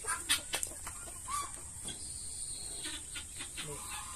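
A Basilan cross black Australorp free-range chicken clucks in short soft bursts close by, over a high steady background hum and faint talking.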